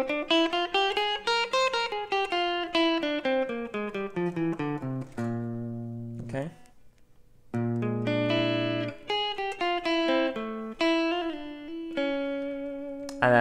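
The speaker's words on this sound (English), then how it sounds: "The Lydian dominant scale is the fourth mode of the melodic minor scale, and it sounds a bit like this." A guitar plays a run up and down the Lydian dominant scale, then a short neo soul/R&B-style melodic phrase with sustained chord tones. The notes are clean, clear and close, with no talking.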